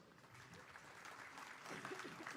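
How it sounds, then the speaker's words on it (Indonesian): Faint audience applause for the military commander at a Papua event, steady clapping that grows slightly toward the end amid crowd murmur. "Yang khusus kepada Panglima TNI Pak Agus, kita berikan aplaus"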